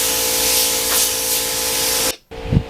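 A spray gun lays clearcoat onto a carbon fiber part, a close, loud, continuous hiss of atomized spray that cuts off abruptly near the end, followed by a brief soft thump.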